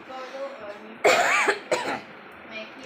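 A couple of short, dry coughs close by, with a brief pause between them and quiet background before and after.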